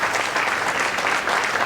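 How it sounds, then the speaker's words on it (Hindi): A large audience gives loud applause to welcome a speaker at a product presentation event, continuous dense clapping at full strength for a short burst, with no talking over it. "जोरदार तालियां होनी चाहिए"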